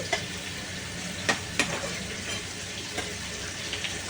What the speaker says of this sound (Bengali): বেশি লাল লাল করে ভাজছি না, এমনই ভাজছি।